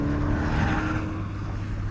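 An Alfa Romeo 4C sports car running on a race track, a sustained engine drone with a steady tonal hum that swells slightly before easing off, heard alone without talk.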